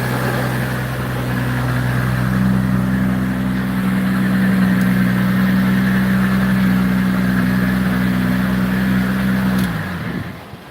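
A 2,000-horsepower car engine idles with a deep, steady, close drone for about ten seconds, then abruptly shuts off, leaving near silence.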